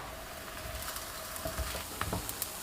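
A flatbread, just flipped, sizzles softly in a hot pan, a low steady hiss with a few light taps, fairly quiet and without speech.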